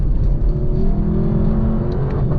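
A 2024 Lexus LC 500's Yamaha-developed engine pulls hard under near-full throttle, a loud, steady, rising drone heard close from inside the car with no talk.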